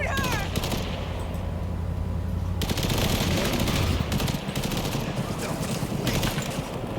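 Firefight in Cyberpunk 2077: rapid bursts of automatic gunfire crackle almost without pause, loud and dense, with sharp volleys stacking over a constant rumble of combat.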